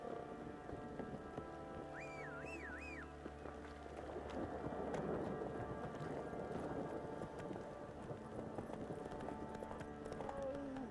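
Roach, a horse in The Witcher 3 video game, gallops with steady clip-clopping hooves under a rain-and-thunder soundscape and a swelling music score, the hoofbeats continuous and mid-distance throughout.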